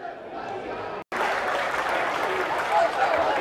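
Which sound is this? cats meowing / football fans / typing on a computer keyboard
football fans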